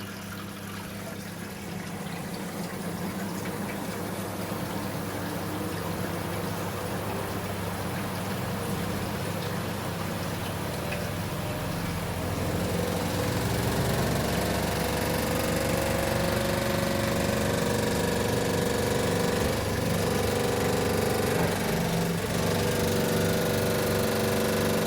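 A Hitachi PS330P twin tub washing machine on its spin cycle, a loud continuous mechanical whir and rumble close by that rises in pitch and intensity as the drum speeds up, with no talking.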